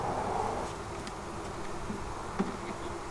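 Honey bees buzz around an opened hive holding a couple of frames, a dense continuous hum close by with a few louder passes.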